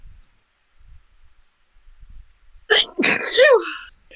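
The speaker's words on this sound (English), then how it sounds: "I'm gonna sneeze." A single close sneeze bursts out after a few seconds of near silence, with a sharp intake and explosive release that trails off into a brief voiced tail.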